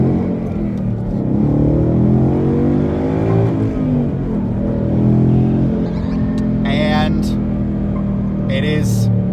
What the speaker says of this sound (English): We love the big American V8s. We like the big rumbles.